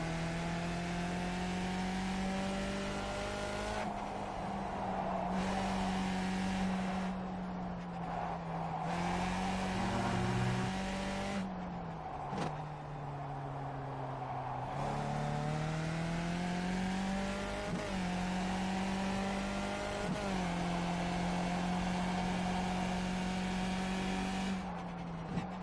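A racing car's engine after a downshift to first gear, droning steadily with its pitch rising and dipping as the throttle changes, close and continuous, with no talking.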